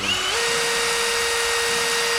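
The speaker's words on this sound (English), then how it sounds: "This is drilling into his trolley." A loud, high-pitched power drill whine drilling into a metal trolley, holding a steady tone throughout, spinning continuously close by.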